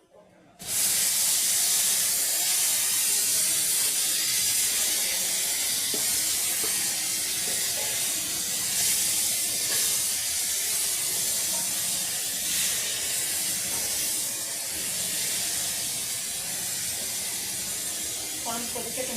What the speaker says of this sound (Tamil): சிக்கன் வறுக்கிறதுக்காக